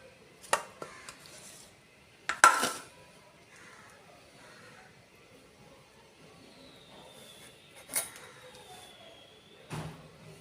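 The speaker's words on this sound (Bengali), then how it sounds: "এই প্রথম কাটছি ফুলুই মাছ" Knife scaling and cutting a Falui fish, a large one and a medium one with very small scales, at home: sparse sharp scraping and chopping strikes, a few loud close clacks spread out with quiet gaps between them.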